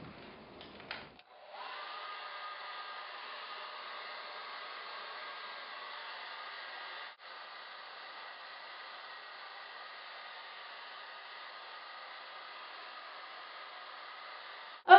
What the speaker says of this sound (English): you can blow dry it, but make sure it's on the cool or cold setting